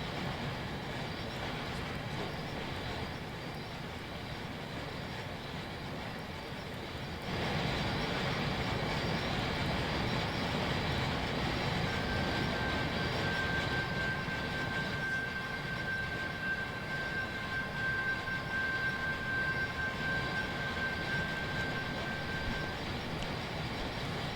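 A train runs continuously in the Trainz railway simulation game, with a steady rumble of wheels and engine, a thin high squeal or whistle tone appearing midway, and no talking.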